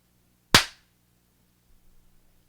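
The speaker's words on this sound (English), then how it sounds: "Also do a better clap this time." A single sharp hand clap rings out close and loud, then decays quickly into near silence with a few faint rustles afterward.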